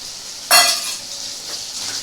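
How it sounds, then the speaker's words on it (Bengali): Mutton liver with potatoes and green peas being stirred in a kadai, a sharp metallic clink of the spatula on the pan followed by soft sizzling and a fainter scrape. "এটাকে আমি কি ভালো করে একটু কষাবো"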